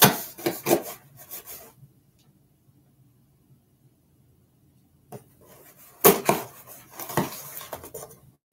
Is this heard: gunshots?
no